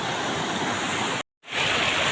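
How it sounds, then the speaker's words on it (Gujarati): Water rushes loudly and continuously at the Bileshwar Mahadev temple bathing spot, a broad close roar that cuts out for a moment and then resumes. "તો મિત્રો તમને અવાજ સંભળાતો હોય છે પાણીનો"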